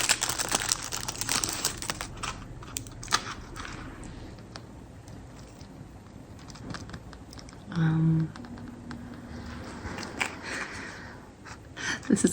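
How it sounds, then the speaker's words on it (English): Crinkling plastic packaging is unwrapped close by in a quiet room, with irregular crackles and rustles in short bursts, plus a brief tonal hum midway. "Take it out of the crinkling stuff."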